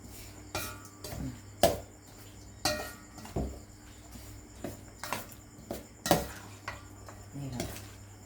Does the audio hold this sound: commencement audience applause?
no